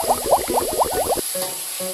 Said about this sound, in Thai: พอผัดได้สักพักหนึ่งก็ใส่หมูป่าตามลงไปเลยครับ ผัดให้ทั่วครับ